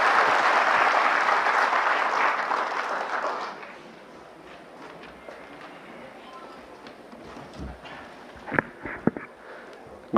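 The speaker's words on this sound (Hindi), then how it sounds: "एक बार जोरदार तालियों से उनका स्वागत करें।" Audience applause at a national CSC workshop on Aadhaar services welcomes the company's CEO and MD, steady and broad for about three and a half seconds before fading into low room noise with a few scattered knocks.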